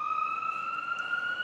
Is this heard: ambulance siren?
yes